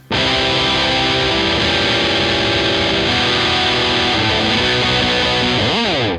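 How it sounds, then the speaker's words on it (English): Electric guitar through a heavily distorted prime setting chugging a crunchy, bite-heavy riff, dense and loud, ending in a short pitch-bending slide. "the prime distortion, sounds like this. A lot of bite, a lot of crunch, a lot of transients coming through there"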